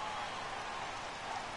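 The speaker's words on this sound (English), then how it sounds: "the rain's been coming down pretty heavy" Heavy rain pours down steadily during a baseball game in MLB The Show 18, a dense, even hiss with no talking.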